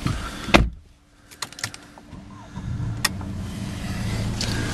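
A 2013 Mercedes E220 is started with the key: a sharp click and short crank, then a few mechanical clicks and the engine catching into a low, steady idle close by, with no talking.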